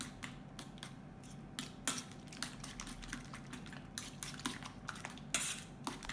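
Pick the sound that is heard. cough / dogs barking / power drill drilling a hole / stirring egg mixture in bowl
stirring egg mixture in bowl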